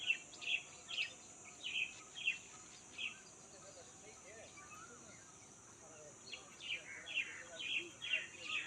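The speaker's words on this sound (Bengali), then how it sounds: "কত পাখি উঠতেছে, পাখি।" Small birds chirping near a river, a series of short high tweets repeating in bursts, faint and somewhat distant over a quiet outdoor background with a soft insect hum.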